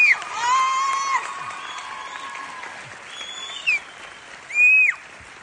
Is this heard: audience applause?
yes